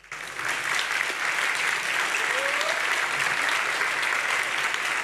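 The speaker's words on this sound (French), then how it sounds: "Pasquale Nardone, on peut lui aussi applaudir." Audience in a hall bursts into applause that quickly swells to a dense, even clapping and holds steady to the end.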